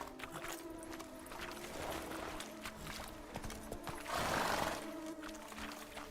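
Roach the horse gallops through The Witcher 3, a steady drumming of hooves under a dense wash of game ambience, with a louder surge of noise near the end.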